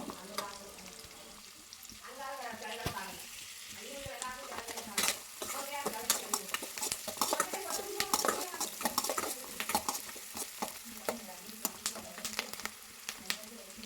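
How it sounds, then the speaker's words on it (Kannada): Onions frying in a pan, sizzling steadily while a utensil stirs and scrapes against the metal with repeated clinks and taps, close and fairly loud, with no talking over it. "ಈಗ ಈರುಳ್ಳಿ ಹಾಕಿದ್ದೀನಿ ಈರುಳ್ಳಿ ಲೈಟಿಶ್ ಕಲರ್ ಆಗೋವರೆಗೂ ಸ್ವಲ್ಪ ಫ್ರೈ ಮಾಡ್ಕೋಬೇಕು"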